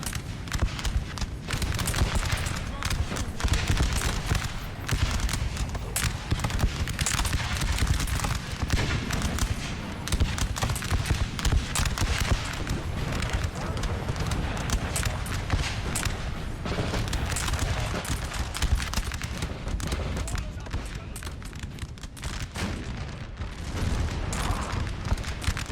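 Musket volleys and horses on a Napoleon Total War battlefield, a continuous dense crackle of massed gunfire and booming rumble that barely lets up for the whole stretch, loud and busy with no voices.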